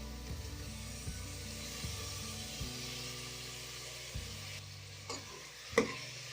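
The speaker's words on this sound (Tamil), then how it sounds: "உடனே தக்காளியும் சேர்த்து போட்டுடலாம்." Tomatoes with ginger garlic paste sautéing in oil for a vegetable kuruma, quiet sizzling under regular spatula stirs and scrapes, with a sharper clink near the end, no voices.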